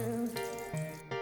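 Water pouring steadily onto a small plant in a video game, a continuous close trickling stream with brief breaks, no talking.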